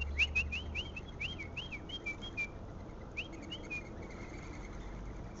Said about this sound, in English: If I whistle, maybe they'll come.